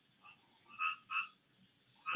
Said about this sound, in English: There's a loud frog right outside the window